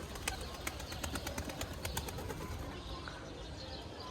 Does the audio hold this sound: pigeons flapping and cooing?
yes